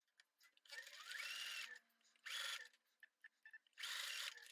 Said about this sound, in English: I'm just going to run that through the machine with the seam allowance that is instructed in the pattern.